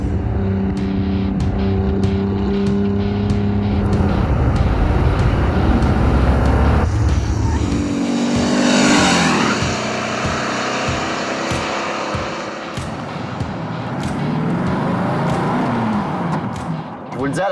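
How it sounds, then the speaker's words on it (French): A 1973 Porsche 914 engine running and revving as the car drives, rising and falling in pitch, with a person talking over it throughout. "On roule le Porsche 914 1973."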